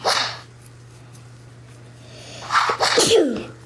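A sharp sneeze bursts out at the start, followed after a pause by a second louder, wetter sneeze with a snorting tail, close by.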